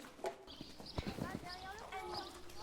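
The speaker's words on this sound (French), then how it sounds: "qui est-ce qui veut refaire un tour de galop?" Horse hooves clip-clop at a riding session, a run of quick, fairly close beats on soft ground with a brief snort, while people talk over the top.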